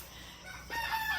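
Backyard chickens at home give a brief, faint call that rises into a short tonal crow-like note near the end, over low background hiss.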